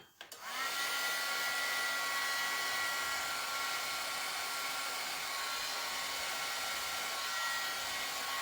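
A hair dryer switches on and blows steadily and loudly across a wet watercolor painting, a continuous whooshing drone with a faint steady whine, and no voices.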